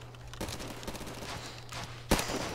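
A shotgun in Roblox fires in rapid bursts like a machine gun, a dense rattle of close, loud shots with a sharper blast near the end.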